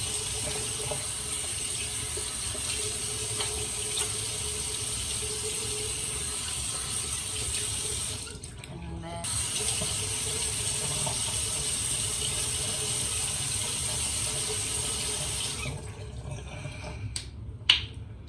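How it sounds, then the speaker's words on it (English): A bathroom tap runs steadily for washing hands, a continuous hissing stream that briefly cuts out midway, then runs on before stopping near the end. "actually I'm gonna wash my hands first"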